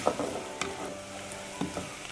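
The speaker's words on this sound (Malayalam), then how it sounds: "ചെറിയുള്ളി ഒരുപാട് ബ്രൗൺ കളർ ആവുന്നു വേണ്ട, നന്നായിട്ടൊന്ന് വഴന്ന് കിട്ടിയാൽ മതി" Shallots and garlic sauté in a pan for a curry, giving a steady low sizzle broken by a few sharp scraping stirs close by, with no talking.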